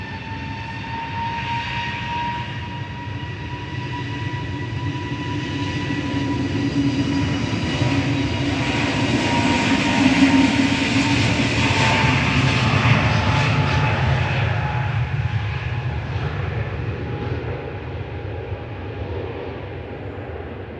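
A Shuttle flight departing Manchester Airport, its jet engines roaring with a rising, whining tone that swells to a peak and then slowly fades as the aircraft climbs away, heard alone without talk.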